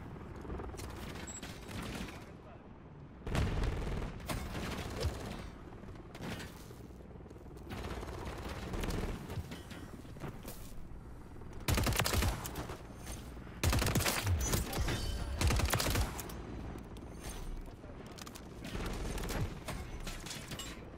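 Gunfire in the shooter game Modern Warfare 3 rattles in repeated loud automatic bursts, with sharp dense volleys separated by quieter stretches of mechanical clatter and ambience.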